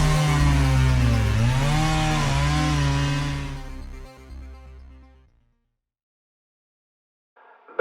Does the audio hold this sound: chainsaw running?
yes